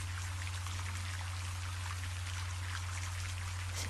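Rain pours down evenly and densely, a close, unbroken patter on surfaces that holds the same level from start to finish, with nothing else heard.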